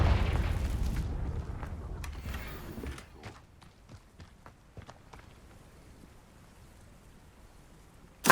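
A Confringo fire spell explosion in Hogwarts Legacy, a heavy booming blast that rumbles and fades over about three seconds, followed by quiet scattered footsteps and a sudden loud hit at the very end.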